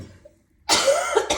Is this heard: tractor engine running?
no